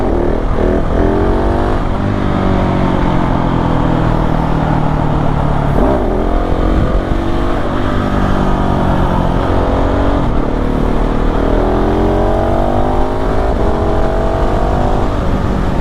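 A 2021 KTM 690 SMC R single-cylinder motorcycle rides twisty roads, its engine droning loud and close as revs climb and fall repeatedly with each gear change and bend.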